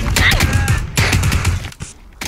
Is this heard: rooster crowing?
no